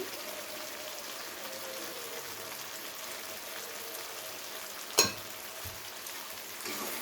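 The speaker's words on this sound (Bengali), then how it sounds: "আবারও খুব ভালো করে একবার কষিয়ে নেব।" Fish curry for Bengali dudh katla sautéing in a pan after salt and a little sugar go in, a steady soft sizzle throughout with one sharp clink of a utensil partway through and faint stirring scrapes.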